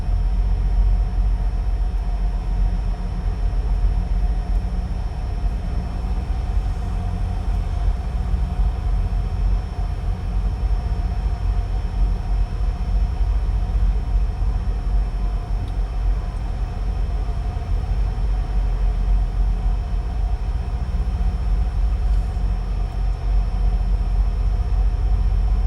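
A freight train on a BNSF rail line in Friona, Texas rolls past with a continuous low rumble and rattle of wagons, steady and fairly loud for the whole stretch.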